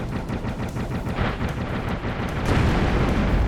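In Dave the Diver, a torpedo fires and explodes underwater as a sustained, rumbling roar of deep blasts builds louder toward the end, dense and close with no clear gaps.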